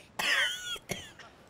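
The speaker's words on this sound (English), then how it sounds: "That was me just coughing." A young man gives a sharp, squeaky cough, then two smaller follow-up coughs, close to the microphone with nothing else around.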